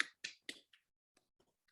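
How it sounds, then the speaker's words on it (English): A few sharp hand claps close to the microphone in an online meeting, three quick claps followed by a softer fourth and faint trailing taps, with no talking. "I hope you can hear my claps."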